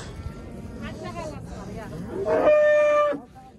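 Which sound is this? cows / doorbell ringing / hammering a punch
cows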